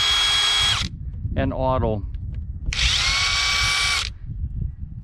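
A Ryobi P262 half-inch cordless impact wrench spins freely in two loud bursts separated by a pause, its motor whine shifting between speed modes, with a brief spoken remark in the gap.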